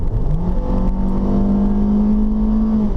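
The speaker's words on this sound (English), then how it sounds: "let's give it a little gas just to test it out again" A 2013 Kia Soul accelerates steadily, its engine note climbing then holding a smooth sustained drone from close inside the car, with no voices over it.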